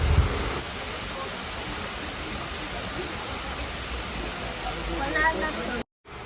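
Artificial waterfall at a Seoul cafe pours in a steady broadband rush, constant and fairly close, with faint voices in the background.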